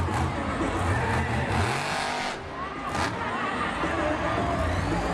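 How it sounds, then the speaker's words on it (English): The Monster Mutt Dalmatian monster truck roaring and revving at a Monster Jam event in Jacksonville, loud surging engine bursts and skids over a crowd, with an announcer talking. "The Monster Mutt Dalmatian, such a favorite truck in the sport."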